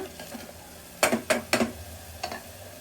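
A spoon stirs biryani masala mixed with curd in a pot for mushroom biryani, making a few quick scraping clinks in a short cluster, then two softer strokes over a faint background.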